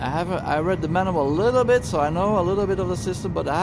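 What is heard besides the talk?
No distinct noise like a dog, phone or traffic.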